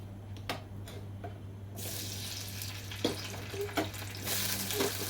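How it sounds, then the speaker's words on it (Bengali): Boiled potato pieces frying in oil, a quiet sizzle that swells louder partway through, with a few sharp spoon taps and clinks over a low steady hum, no speech. "দিয়ে এটা আমি একটু ভেজে নেব তেলে।"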